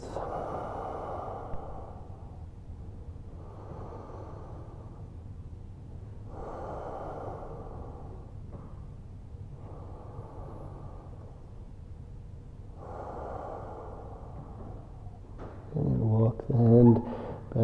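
Slow, deep yoga breaths during a stretch in a beginner class, five or so long airy inhales and exhales in a steady rhythm, close and fairly soft, followed by a brief louder rustle at the end.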